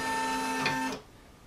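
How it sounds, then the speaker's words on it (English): A Brother PE770 embroidery unit's carriage moves, a short whirring motor buzz with a steady mechanical hum that rises briefly and then stops abruptly, leaving quiet room tone. "now it says the carriage of the embroidery unit will move,"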